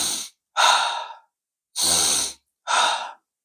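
Four deliberate breaths during a breathing exercise, heavy audible inhales and exhales in an uneven rhythm with short silent pauses between them, close and fairly loud with no talk.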